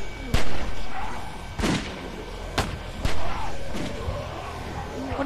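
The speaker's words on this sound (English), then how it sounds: "Shooting is not a good idea" Gunfire in the video game The Walking Dead 2, with several sharp, booming shots spaced irregularly among thuds and a low rumbling background, while voices speak faintly underneath.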